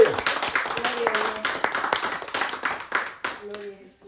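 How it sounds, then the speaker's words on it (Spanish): A church congregation breaks into rhythmic applause during a sermon, a dense run of close, fast claps that fades out near the end as a voice speaks over the last moments. "Dame una ofrenda de aplausos"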